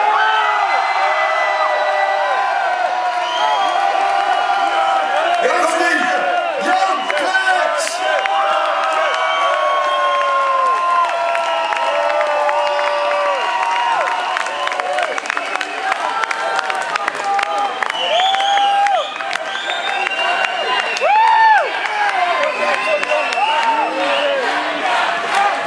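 A large outdoor crowd at a Queen's Day market stage in Den Bosch cheers, shouts and whoops continuously and loudly, with scattered clapping and voices throughout.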